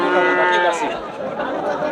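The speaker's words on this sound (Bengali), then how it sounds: "পরবর্তীতে যে গরুটা দেখতে পাচ্ছি আমরা" A Holstein Friesian cross-breed bull calf at a cattle market lows in a drawn-out, fairly close call, with faint crowd chatter and market noise behind it.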